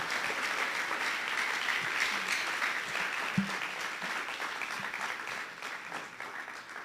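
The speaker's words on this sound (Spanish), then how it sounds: "Vamos a darle un aplauso a Dios por la vida de nuestros pastores." Congregation applauding in church, a sustained, even wash of many hands clapping that continues for several seconds, with faint voices beneath it and a single sharp knock partway through.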